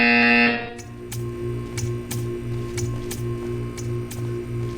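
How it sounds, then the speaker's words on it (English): A buzzer in the video game Portal 2 sounds as a steady electronic tone over a pulsing background hum with regular clicking ticks, clear and alone. "You will hear a buzzer."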